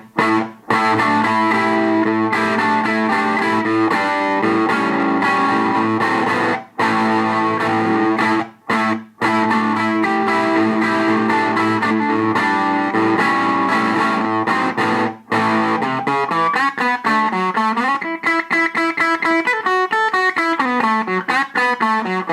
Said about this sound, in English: and this is a Supro branded amp,